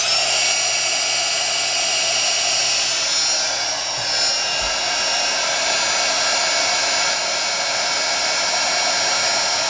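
A heat gun blows hot air with a steady, loud whine and rushing hiss, continuous throughout with only slight wavering, close to the listener.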